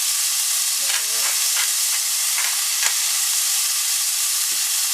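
Pierogies sizzle and hiss steadily in a hot pan with a few stirring scrapes, a continuous close frying sound with no talking.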